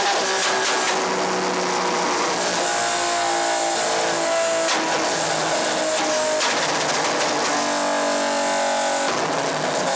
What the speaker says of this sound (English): what kind of exhaust is that on that car, on this car?